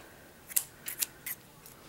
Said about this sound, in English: So you're going to take your scissors. You're going to cut through all those loops.